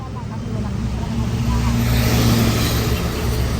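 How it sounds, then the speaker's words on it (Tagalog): A truck rumbles past close by on a busy street in Delpan, Manila, its loud engine drone rising and holding over steady traffic noise. "Pero Marami truck dumadaan dito, no?"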